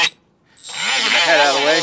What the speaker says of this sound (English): I also do have a tire buffer that leaves a coarser finish.